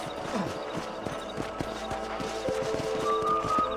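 Horse hooves clip-clop at a steady walking rhythm in Red Dead Redemption, close and moderately loud over faint background ambience, with a brief whinny near the end.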